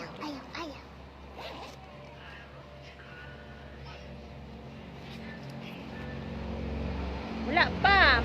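A zipper on a bag is pulled open and shut several times, giving quick ripping zips near the start and a louder burst near the end, with voices and a low engine hum in the background.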